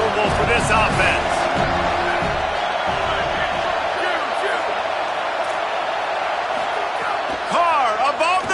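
Loud, steady roar of a stadium crowd at an American football game, continuous wall of cheering and noise throughout with swells of whoops and shouts, a commentator's voice faintly riding on top.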